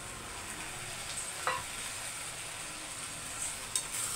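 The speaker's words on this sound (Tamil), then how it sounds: "அதுக்கப்புறம் ஒரு 5 முட்டை உடச்சி ஊற்றிருக்கேன்." Five cracked eggs poured into a hot pan of cooking broad beans give a soft, steady sizzle, with a few light clicks of a spoon against the pan.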